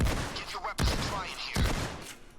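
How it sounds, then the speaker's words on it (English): Three heavy shotgun blasts fired from the hip at close range in the game Payday 2, each a sharp boom with a ringing tail, spaced roughly 0.75 seconds apart, loud and close with no talk. "Always easy to just shoot from the hip at close range with a shotgun."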